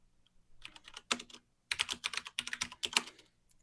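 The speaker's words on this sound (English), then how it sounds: "Because it's a fair bit of typing." Typing on a computer keyboard comes through as quick, close bursts of key clicks in short irregular runs, with brief pauses between the flurries and no voices.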